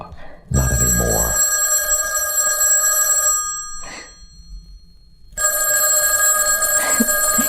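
Old-fashioned telephone bell in a radio drama, ringing in two long loud bursts separated by a pause, close and clear with no talk over it.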